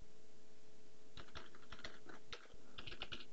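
Typing a password on a computer keyboard, a quick run of separate clicking keystrokes close up, with a short pause partway through and a steady low hum underneath.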